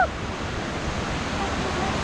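A snow-melt river rushes steadily nearby on a Montana hiking trail near Red Lodge, a dense, continuous roar of water lasting about two seconds.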